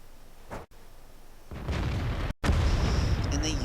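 An artillery gun in a tank battle game fires at an enemy AT-15A tank destroyer, with a faint early report and then two loud, booming blasts that roll on under a continuous low rumble, with a brief voice in the background.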